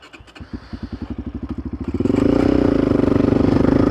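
A motorcycle heading off-road toward a forest starts with a fast rhythmic engine putter, then revs into a louder steady drone as it pulls away close by, with no talking.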